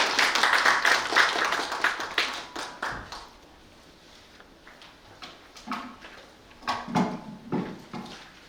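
Audience applause after a lecture presentation at an academic history lecture event, a loud burst of clapping that fades out over several seconds, followed by a few scattered claps and faint room noise.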